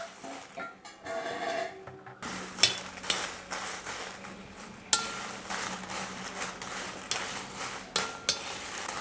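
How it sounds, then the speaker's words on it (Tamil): A quarter kilo of dried red chillies with the stems pinched off roasts in a pan for idli powder, with a faint sizzle under repeated scraping stirring strokes and occasional clinks against the pan. "அடுத்தது நம்ம 1/4 கிலோ வரமிளகாய் வந்து காம்பு கிள்ளி எடுத்துருக்கோம், அதையும் வறுத்து எடுத்துக்கலாம்."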